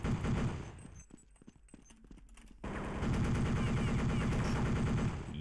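Automatic machine gun fire in Counter-Strike 1.6 on the Dreamcast, loud continuous rapid bursts with a brief thinner stretch before a sustained dense volley.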